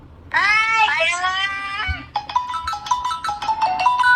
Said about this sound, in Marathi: तुला आवडली रिंगटोन वाजवले परत